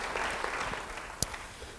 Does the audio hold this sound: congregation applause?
yes